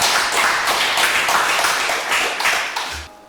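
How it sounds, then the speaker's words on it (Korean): A church congregation claps together after a prayer, a brisk run of fairly loud, close applause with a rhythmic pulse that tapers off near the end. "우리 영광의 박수 드리겠습니다"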